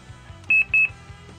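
A Tokkei Inspector DX Max Caliber toy gives two short, shrill electronic beeps in quick succession, close and clear over a faint background.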